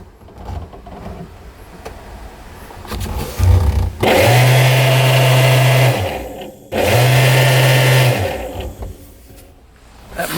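An exhaust vent fan in the engine compartment of an old jet boat spins up in two sustained runs, a steady low motor whine close by, with short pauses and faint handling noise around them.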